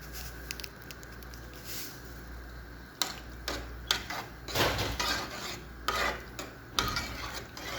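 A spoon stirs two cups of washed, drained rice with salt in a pot, giving close, intermittent scraping and rasping strokes against the metal, with no talking.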